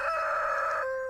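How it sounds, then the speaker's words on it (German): A video-game rooster in Stardew Valley crows a single clear, sustained cock-a-doodle-doo at the start of a farm morning, loud and close with no talking over it. "Kikeriki, Tag 1."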